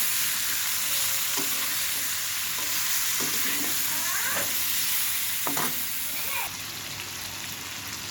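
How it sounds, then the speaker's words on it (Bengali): Meat frying with spices in a pan for an egg and meat curry, a dense continuous sizzle with occasional spatula scrapes, close and steady. "এখন আমি এই মাংসগুলো দিয়ে দিলাম এটাও ভালো করে ভেজে নেব"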